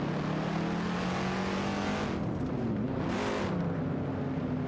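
Race cars, including a Plymouth Barracuda Hemi, roar past in an AI racing video game, with steady loud engine drone, rising revs and a brief whooshing pass near the middle, no talk.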